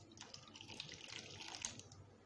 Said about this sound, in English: we are going to put some hot water into this bowl.